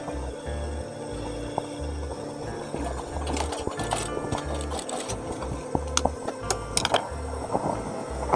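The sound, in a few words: sewing machine stitching a shirt cuff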